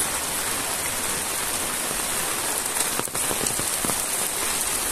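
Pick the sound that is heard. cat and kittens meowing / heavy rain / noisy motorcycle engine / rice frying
heavy rain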